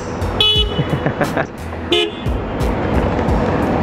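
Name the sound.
car horn honking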